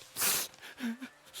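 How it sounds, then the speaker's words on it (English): A character in the western survival game Above Snakes sniffles and weeps: a short breathy sniff burst, then a brief shaky whimpering tone, close and quiet. "Sniffles and weeps."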